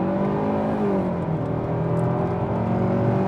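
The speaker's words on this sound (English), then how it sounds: "Open her up one more time on the gas." A 2025 Hyundai Sonata SEL Convenience accelerates hard under full throttle, its engine note rising and whirring continuously as speed builds, heard steadily from inside the car with no talking.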